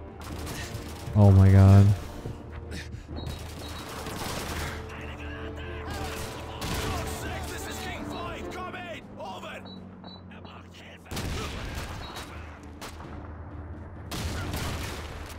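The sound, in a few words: gunfire and grenade in Call of Duty 2 video game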